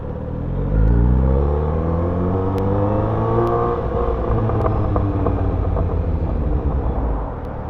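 A Kawasaki Z900RS motorcycle rumbles along at a steady cruise, its engine note swelling briefly as it accelerates, then holding an even, close drone with wind noise and no talk.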